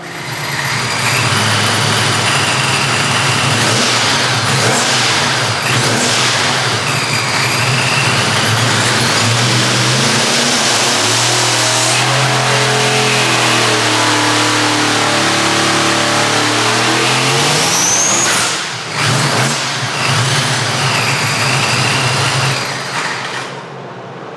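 A ProCharged SMX top dragster engine under FuelTech tuning roars continuously through a pull, loud and close, with rising and falling revs and a brief dip near the end before cutting off.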